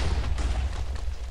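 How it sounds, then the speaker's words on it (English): TNT explosions raining down on a city in a blocky video game map, a rapid run of deep booms and rumbling blasts layered together, loud and close. "And there's TNT raining down from above onto the city."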